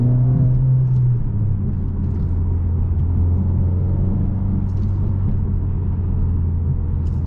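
A 2021 Mercedes-AMG CLA 45 Coupe engine rumbles in a deep, steady drone that stays loud and even throughout, with a slight lift in pitch near the start.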